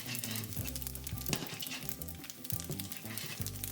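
Garlic, chili, Szechuan green peppercorn and cumin frying in hot oil in a wok, a steady close sizzle with stirring clatter over a low background of music.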